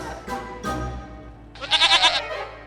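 A scratchy, wavering string screech from a badly played violin, two short rough strokes followed by a higher quavering note that sounds much like a goat's bleat.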